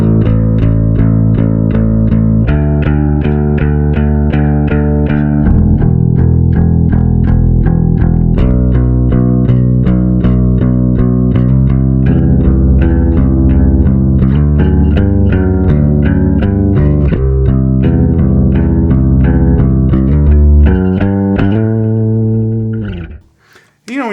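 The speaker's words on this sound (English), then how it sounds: "But we went with just a regular old bass sound, and it sounds like this." Electric bass tone played on an Emerald Virtuo guitar triggering a MIDI bass patch, a steady run of plucked low notes in a continuous groove for about twenty-two seconds before cutting off, loud and alone.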